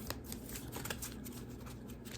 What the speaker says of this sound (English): let's give this a little shuffle